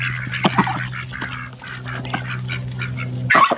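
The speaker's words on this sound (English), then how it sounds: "I'm putting the ducks away at night." Domestic ducks quack repeatedly at night while being put away, making a chorus of nasal calls close by, with a steady low hum throughout and a louder burst near the end.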